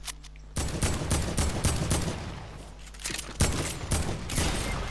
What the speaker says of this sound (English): Oh shit, someone shot me